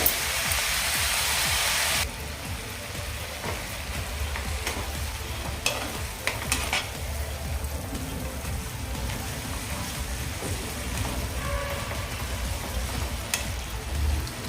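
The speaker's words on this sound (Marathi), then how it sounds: "हे भाजी आपण यामध्ये घालून व्यवस्थित असं मिक्स करून घेऊया" Fenugreek leaves mixed in a frying pan make a steady close sizzle and crackle, broken by stirring scrapes and clicks throughout.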